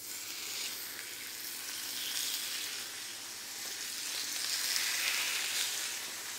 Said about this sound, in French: Un petit filet d'huile d'olive. Hop, un peu de fleur de sel. Et c'est parti, on va colorer nos beaux morceaux.